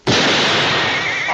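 A single loud gunshot cracks out at close range, its blast filling the moment and trailing into a short, dense ring as the shot is fired at a man's leg.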